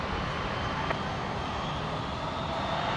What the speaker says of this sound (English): Looks like the Jetstar 320 might make the Alpha 7 turn off just to the right hand side.